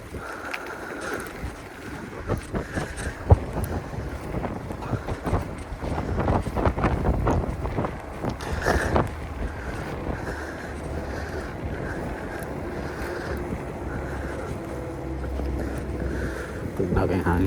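Wind blows at sea around a boat, with steady rushing gusts and microphone buffeting, plus low water and engine rumble underneath and occasional thumps and knocks.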